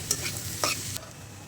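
Garlic cloves fry in a pan for a Bangladeshi chapila shutki bharta, a steady close sizzle with a couple of stirring scrapes.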